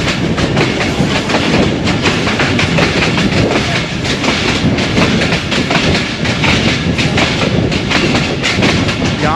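A train on the Narowal branch line between Lahore and Narowal passes through Kot Moolchand station without stopping, a loud, close, continuous rolling clatter of wheels on rails with no voices.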